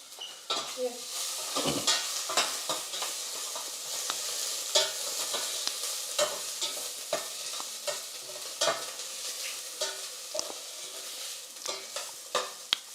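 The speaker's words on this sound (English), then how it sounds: "We are frying the onion." Steady crackling sizzle of onions frying in a pan, with intermittent stirring scrapes and clinks throughout, close by.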